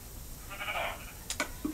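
Sheep bleat from inside a sheep room, with two short calls near the end of a quiet stretch. A brief harmonic sound comes first, and the room's background noise carries under everything.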